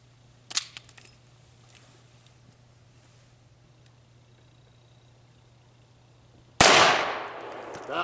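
Pistol fire at a slime target outdoors: a sharp crack near the start, then a louder, close shot that rings and decays over a quiet background.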